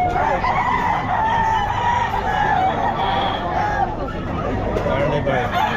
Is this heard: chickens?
yes